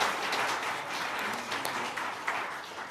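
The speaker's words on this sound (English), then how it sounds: "Let's give them a round of applause, because I so appreciate that." An audience at a speech on diversity and inclusion claps together in a moderate, even burst of applause lasting about three seconds, steady throughout with no voices over it.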